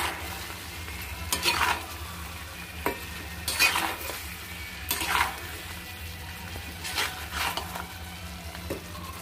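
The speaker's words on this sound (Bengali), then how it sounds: "দিয়ে এবার এটাকে আমি ভালো করে মিশিয়ে নেব।" Vegetable manchurian balls stirred through sizzling gravy in a pan: a steady low frying hiss runs throughout, broken by five or six brisk scraping stirs of a spoon at fairly even intervals, heard up close.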